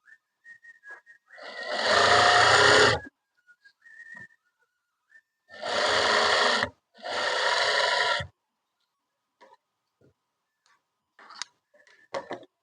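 A sewing machine stitches a kurti collar in three dense mechanical bursts, one long run followed by two shorter ones, with quiet pauses and faint small clicks between them. No one speaks.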